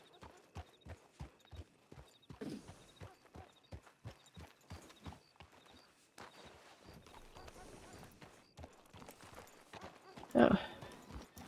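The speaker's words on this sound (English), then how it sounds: "Such a cute horse." Hooves of a horse in the WildRP game clip-clopping in a steady walking rhythm, crisp and close, with a snort or whinny near the end; quiet voices talk at times underneath.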